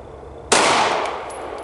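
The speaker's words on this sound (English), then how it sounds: "I'm gonna shoot the Glock first" A single sharp Glock pistol shot fired at a paper target at a range, one loud close crack followed by a long ringing decay, no talking.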